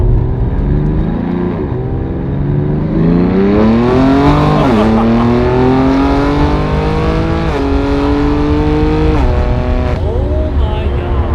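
A BMW G80 M3 Competition with an iPE exhaust revs hard and loud, its pitch climbing through several gear pulls with brief dips between, a raspy close-up roar sustained throughout.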